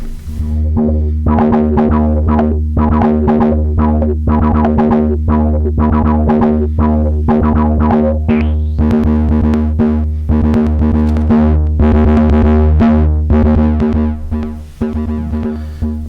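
Gritty synth bass sequence from a Eurorack modular synthesizer, undistorted, pulsing in a steady rhythm, with bright harmonic overtones from a fully open low-pass filter; loud, close, and continuous without any voice.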